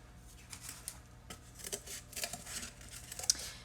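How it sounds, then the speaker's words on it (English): Quiet, close snipping of scissors through cardboard, a series of short crisp cuts at an uneven pace. "I'm going to cut this out with my scissors"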